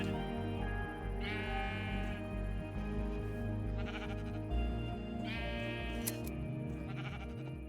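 Sheep bleat repeatedly on a Minecraft animal farm built with the Industrial Foregoing mod. Several loud, wavering calls overlap over a busy mechanical background hum, and nobody speaks.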